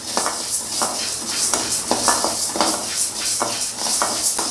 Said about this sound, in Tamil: உளுந்தை போட்டு வறுத்துக்கலாம் உளுந்து நல்லா செவந்து வரணும்